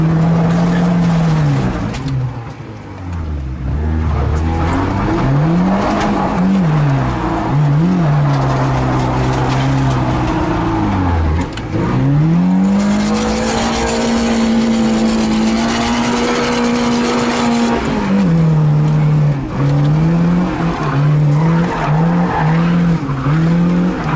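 A Zhiguli (VAZ) drifts on icy, lightly frozen asphalt. A loud, continuous engine note rises and falls with revs, and tire squeal and skidding run through it without pause. No one speaks over the noise.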